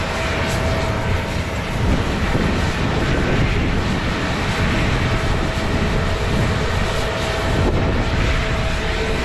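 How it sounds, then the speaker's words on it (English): Airplanes taking off at an airport roar as a steady, loud, broadband engine rumble that holds without a break, with no talking over it. "you can see planes taking off"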